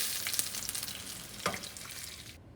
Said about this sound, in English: I fried it both the sides for 3 minutes